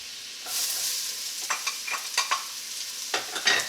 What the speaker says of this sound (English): So the pan is hot, we're gonna add 1 stick of butter, 1 chopped yellow onion